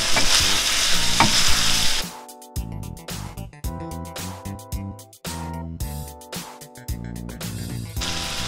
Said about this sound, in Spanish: Agregamos el arroz.